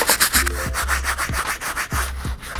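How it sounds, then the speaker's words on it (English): Stiff bristle brush scrubbing the soles of Nike Air Tech Challenge 2 "Hot Lava" sneakers: rapid rhythmic back-and-forth scratching strokes, close and steady. "The first brush we're going to get started with is our stiff bristle brush to clean up these soles."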